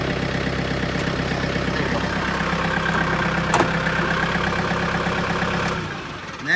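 A John Deere 4700 tractor engine idles with a steady, even mechanical drone and harmonic hum, holding constant for several seconds before dropping off slightly near the end, with no talking.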